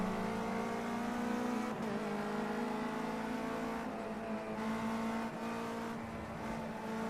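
A race car in Project Cars 2 launches at about 4,000 revs and accelerates, its engine a loud, sustained droning whine that climbs in pitch with brief dips at gear shifts, alone without talk.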